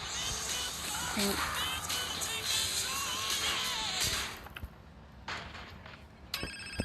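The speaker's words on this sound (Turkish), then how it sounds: "Evet telefon çaldı." A phone rings in the video game GTA San Andreas Definitive Edition, a loud repeated electronic ringtone over game sound that cuts off near the end, followed by a few short clicks.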